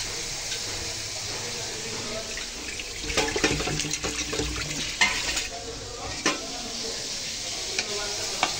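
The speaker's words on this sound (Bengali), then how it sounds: "আর এই তো এই যে মশলাটা তো এখন ভালো করে কষিয়ে নিয়েছি।" Ginger, garlic and chili spice paste sizzles in a pan while a spoon scrapes and stirs it in irregular bursts, with wet clatter and sputtering up close.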